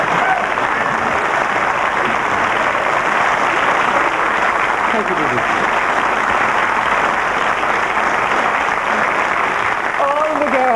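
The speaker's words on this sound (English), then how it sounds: "All the girls in the audience are applauding, I noticed, Pat." A studio audience applauds on a 1990 RTE television talk show, a dense, steady wash of clapping that runs loud and unbroken for the whole stretch, with a few brief spoken words surfacing over it.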